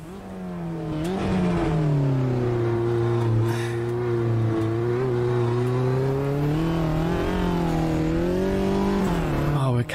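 A Mini race car's four-cylinder engine in Automobilista 2 screams at high revs throughout, its pitch rising and dipping steadily as it runs, loud and close, with no talk.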